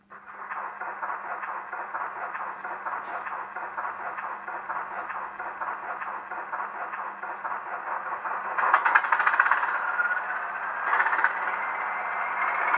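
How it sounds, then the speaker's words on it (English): A Bachmann Class 20 model diesel locomotive with an ESU LokSound V5 sound decoder runs with a steady droning engine note and rhythmic mechanical chatter, rising louder and rougher near the end, with no talking. "The engine is now started, and you can just hear how amazing this ESU Locksound V5 decoder is."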